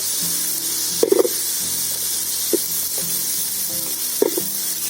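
Green chillies, drumstick pieces and curry leaves frying in a pan give a steady, loud sizzle throughout. A few brief clinks of stirring rise over it, with no talking.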